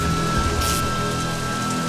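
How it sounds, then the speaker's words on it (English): Heavy rain pours down in a steady, dense hiss with no letup, close and fairly loud, a faint low hum running underneath. "there's been torrential rain in Washington, D.C."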